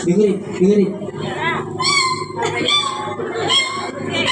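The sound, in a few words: kitten meowing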